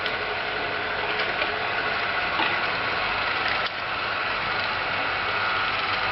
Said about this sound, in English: Here's what it looks like after it's gone through the grinder 2 times.